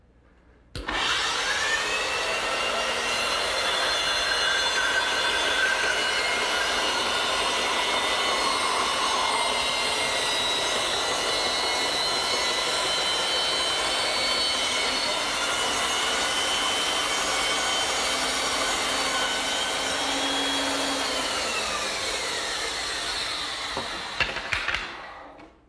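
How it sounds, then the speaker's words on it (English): A power saw runs continuously for about 25 seconds, cutting a spinning wooden blank into a circle with a loud, steady, high-pitched whine and rasp, then spins down at the end. "I'll turn the saw on, spin the blank, and I'll get a perfect circle every time"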